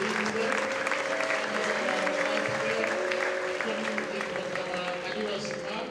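A church congregation standing to applaud God gives sustained, dense clapping from many people, with voices and a steady tone mixed underneath.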